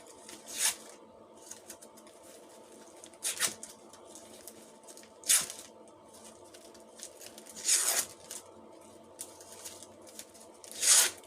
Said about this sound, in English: And I curl my ribbon.